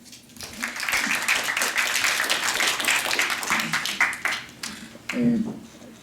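Lecture audience at a physics and engineering talk applauding steadily for several seconds, a dense wash of clapping that dips briefly near the end as a voice speaks over it.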